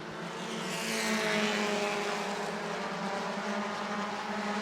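A field of Bomber race cars roars down the front stretch at New Smyrna, a dense, sustained engine drone that swells as the pack passes, then holds steady at a loud, mid-distance level.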